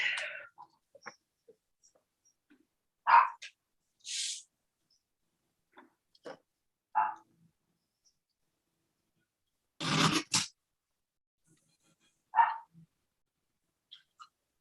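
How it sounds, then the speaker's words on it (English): A yellow Labrador lying under a desk lets out short, scattered yelps and whimpers, close by and separated by long quiet gaps. "No, it's the dog."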